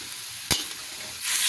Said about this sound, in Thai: ก็เหมือนเราลวนหมูเลย